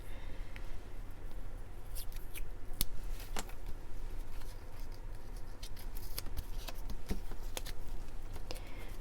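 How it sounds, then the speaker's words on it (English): Washi tape being torn and pressed onto a junk journal page made from scraps, soft scratchy tearing and rubbing with a few sharp crinkles, close and quiet, without speech. "I think I want to add some washi tape here on the bottom"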